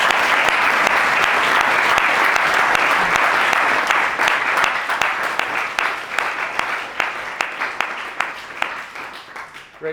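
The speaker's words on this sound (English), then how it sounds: "Another round of applause." An audience in a school chapel gives sustained applause at a Black History gathering, dense clapping that thins toward the end into distinct individual claps.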